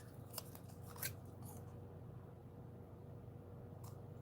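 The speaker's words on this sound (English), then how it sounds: "And then cut another one. Cut this way." Scissors snipping paper for a stamp card, a few quiet crisp cuts near the start and again at the end over a low steady room hum.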